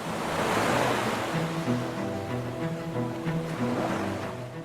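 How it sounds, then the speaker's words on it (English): Ocean surf crashes continuously against black cliffs on remote Heard Island, a loud, broad wash of breaking waves mixed with gusting wind, with no voices. "Black cliffs rise up behind the crashing waves."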